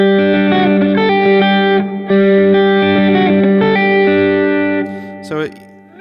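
A distorted electric guitar plays a bright, ringing lick in two phrases, loud and close, ending with a short bend and trailing off.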